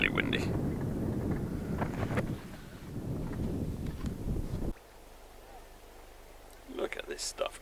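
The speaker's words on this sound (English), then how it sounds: "It's windy, really windy." Strong wind buffets an anchored boat in Tetney Harbour, a small creek, roaring steadily and close against the microphone before abruptly dropping away; a voice speaks near the end.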